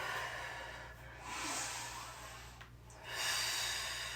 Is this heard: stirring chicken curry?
no